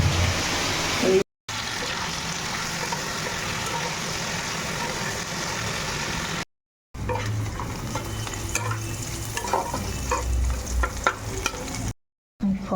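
Chicken frying in a pan in a home kitchen, a steady loud sizzle with stirring and scraping that runs through the clip, broken by brief silent gaps, with occasional louder spatters toward the end.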